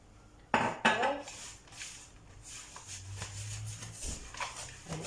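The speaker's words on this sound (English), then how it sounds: "down with the spoon so that all your crumbs and your flour and your butter is mixed up nicely together." A spoon mixes flour, butter and crumbs in a bowl, with two sharp clinks at the start followed by softer, uneven scraping and tapping against the bowl, close and fairly quiet.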